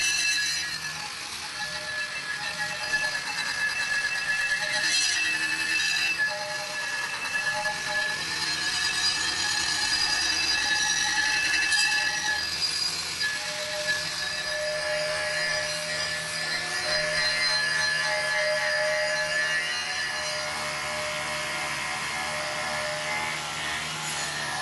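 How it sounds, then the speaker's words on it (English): A stainless steel boat propeller is polished by a power tool to remove grinding marks, a steady abrasive whirring and rubbing that runs on throughout with no talk. "So now I'm going to show you basically how I go about polishing."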